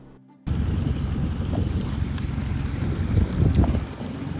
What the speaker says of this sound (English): Todd was then going to try to pull Sea Spirit out.